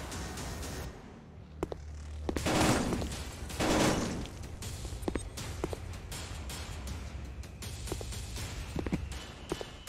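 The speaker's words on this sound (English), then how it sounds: "Hey, who's shooting at me?" Scattered gunfire in a VR shooter game, a few sustained bursts of shots amid lighter footstep-like clicks and thuds, moderately loud against a steady background rumble.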